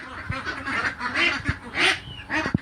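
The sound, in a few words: ducks quacking on a duck farm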